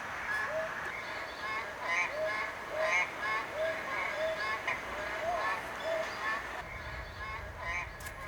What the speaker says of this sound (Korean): 좀처럼 모습을 드러내지 않는 맹꽁입니다.